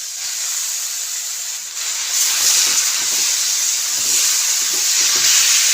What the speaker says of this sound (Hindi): पनीर को भी मैं इसी तरह हाई फ्लेम पर ही फ्राई करूँगी।